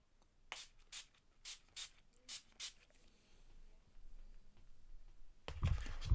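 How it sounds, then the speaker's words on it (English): Six short, crisp bursts of NYX Dewy setting spray onto a face in a steady rhythm, close by, followed by soft rustling and a louder fumbling noise at the end. "I'm going to use the NYX Dewy setting spray and just spritz the face"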